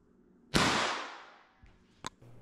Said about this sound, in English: So the flashbang went 5 for 5 on the indoor, on the concrete.